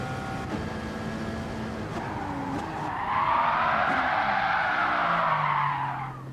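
Race car tires squeal in a long loud skid under hard braking in the Gran Turismo video game on PS4, rising over steady engine noise and then fading out.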